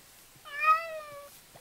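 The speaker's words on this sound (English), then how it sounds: "I think that cat just got messed up." A cat in the Minecraft video game lets out a single clear, drawn-out meow, loud and close, with no talking over it.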